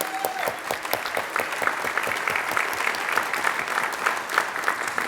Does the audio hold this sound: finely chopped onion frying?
no